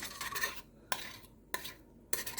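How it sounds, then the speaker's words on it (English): Peanut butter scraped with a utensil into a pan for peanut noodles, giving a few faint, close, rhythmic scraping strokes separated by short clinks against the pan. "Then let's scrape in this peanut butter."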